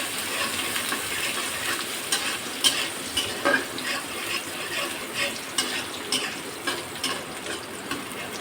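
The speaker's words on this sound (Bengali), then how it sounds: "একটু লাল লাল করে পেঁয়াজটা ভাজবো।" Chopped onions fry in a pan, with a continuous soft sizzle broken by repeated close scrapes and clacks of a spatula stirring them.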